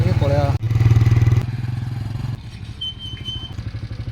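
A motorcycle engine runs near and loud, then cuts off partway through as the bike is parked at Jaydev Batika park, leaving scrapes, clatter and faint background voices.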